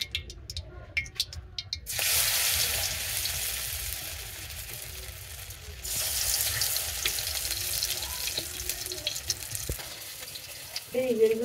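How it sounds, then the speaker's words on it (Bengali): Pumpkin leaf fritters fry in hot oil in a village kitchen, a steady close sizzle rising abruptly after two seconds, briefly dipping, then crackling on to the end. "কুমড়ো পাতার বড়া ভাজুন।"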